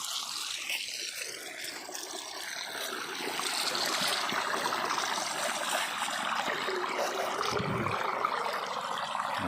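Steady rushing of irrigation water running into a coriander field, continuous and fairly close, with no voices, filling the whole stretch at an even level.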